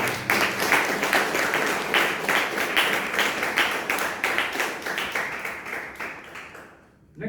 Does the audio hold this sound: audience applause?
yes